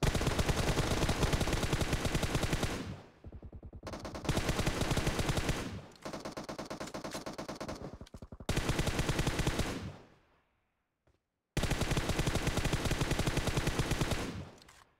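Automatic gunfire rattles in a shooting video game: long, loud, continuous bursts broken by short pauses and one near-silent gap, with no voices.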